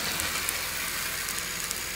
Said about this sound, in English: the steam comes out underneath.